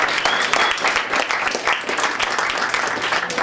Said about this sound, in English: if you guys can give them a round of applause